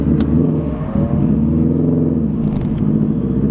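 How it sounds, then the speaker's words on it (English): A Nissan 350Z engine running rough after a hot start, idling unevenly with a steady low droning rumble and slight wavering pitch as it struggles to settle, heard up close with no talk. "it sometimes stalls the car like it is now, and then it never wants to find its way back to idling place."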